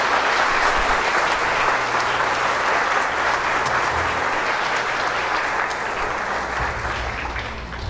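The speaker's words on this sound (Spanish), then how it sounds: "Aplausos al Rey de Reyes y Señor de Señores." A church congregation at a Sunday Mass applauds in a sustained, even wash of clapping that holds steady and eases off slightly toward the end, with a faint low hum beneath.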